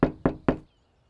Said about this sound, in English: The knock comes again